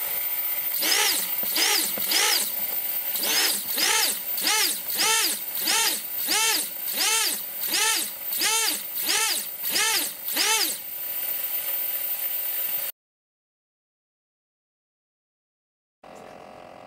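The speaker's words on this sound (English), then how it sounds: "let's look at the throttle response with Oneshot enabled." Quadcopter motors running BLHeli with Oneshot enabled rev up and down in a rapid, regular series of rising and falling whines, then cut to silence before a faint hum resumes.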